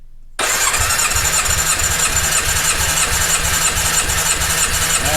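A Yamaha XJ600S motorcycle engine cranks over steadily with the throttle held wide open during a compression test, its starter churning in a loud, even rhythmic pulse after a short quiet start, with no talking.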